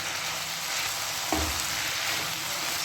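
Fried chicken strips tossed and stir-fried in a hot pan, a steady close sizzle with one brief stirring clatter partway through.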